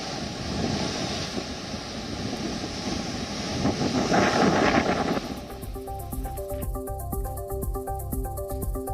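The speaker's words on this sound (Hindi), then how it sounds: "काफी ऊंची लहरें समंदर में देखी जा रही हैं।" Strong wind and high sea waves roll in along the Mumbai coast as a cyclone passes, a steady roar of surf and gusting wind noise that swells near the middle and then gives way to a rhythmic, mechanical-sounding patch.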